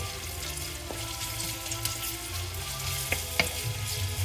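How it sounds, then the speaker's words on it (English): Onions stir-fry in oil in a home kitchen pan for Filipino escabeche, a soft steady sizzle with a few light utensil clinks and scrapes, fairly quiet and without talk. "So let's stir fry this till it's really soft."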